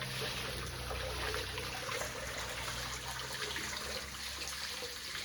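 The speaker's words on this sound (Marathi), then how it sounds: "आई तांदूळ धुते." Rice is washed by hand in water in a village kitchen, with a soft steady sloshing and trickling close by and no voices.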